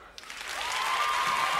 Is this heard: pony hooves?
no